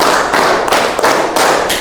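A classroom of students claps hands together in rhythm on command, producing sharp repeated bursts in short grouped patterns, close and loud, with no talk over them.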